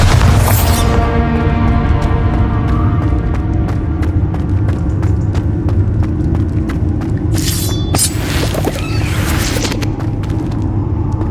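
A Bombarda spell explosion in Hogwarts Legacy opens with a sharp, loud blast and then gives way to a long rumbling, crackling tail. Further bursts strike near the end, all heard without talk.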